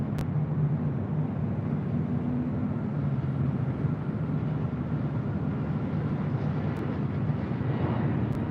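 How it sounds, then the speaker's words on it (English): An Air France Boeing 777-300ER at Los Angeles International Airport makes a steady broadband jet engine roar, loud and continuous without letup, with no talking over it. "We also have the Air France 777-300ER heading back to Barras, Flight 69, also making her way up here for a north side departure."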